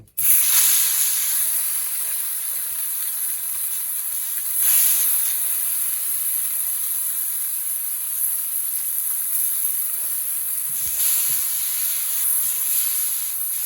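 Mourala fish frying in hot oil, a steady loud hiss and sizzle close by that runs without pause throughout, swelling briefly a few times.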